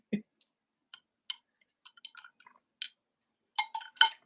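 A coffee cup clinks repeatedly against a spoon or saucer, with sharp separate ticks scattered through the stretch and a denser cluster of clinks at the end, close and fairly quiet.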